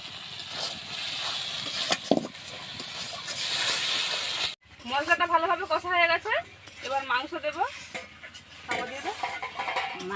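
Sugar dropped into hot oil for a potato mutton kosha curry sizzles with a loud, steady hiss for about four seconds, then a voice talks over a quieter cooking background.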